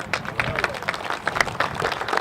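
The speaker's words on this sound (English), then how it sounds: "Give her a round of applause." An audience claps in scattered, uneven applause at a groundbreaking ceremony, with some crowd murmur underneath, steady for a couple of seconds.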